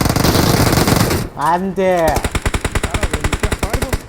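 Video game gunfire: a rapid, evenly spaced burst of loud automatic shots, close and dominant, following noisy action and a brief spoken word.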